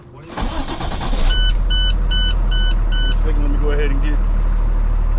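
A big semi truck called Big Bertha idles and warms up, its deep steady engine rumble rising after a starting roar while reversing-style beeps chirp briefly, with someone talking close by.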